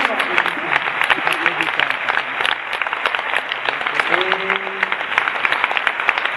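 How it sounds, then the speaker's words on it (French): An audience at the Prix Lumière ceremony claps steadily and densely for several seconds, a full-room applause of even intensity, with a voice briefly audible near the middle. "J'ai mentionné Gérard Collomb, je voudrais qu'on l'applaudisse"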